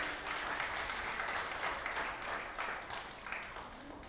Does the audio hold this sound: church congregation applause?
yes